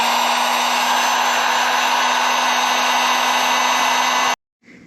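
A heat gun blows a steady, loud whirring roar with a fan hum as it warms stickers on a 2023 KTM 690 SM motorcycle, running continuously before cutting off abruptly near the end.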